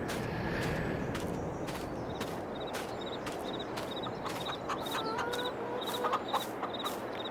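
Chickens in the video game Farming Simulator 22, on an old Polish farm, cluck in short repeated bursts over a soft background of movement and faint footsteps.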